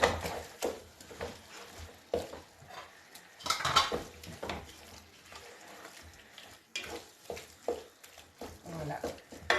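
Meat tipped into a pan and stirred while cooking a folong sauté with prawns, giving repeated clinks and scrapes of a utensil against the pan at a close, moderate level, with a person talking between the sounds.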